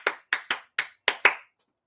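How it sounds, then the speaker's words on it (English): Six sharp, close hand claps in quick, slightly uneven succession, dry and isolated in a quiet podcast studio, ending after about a second and a half. "We're making a clap."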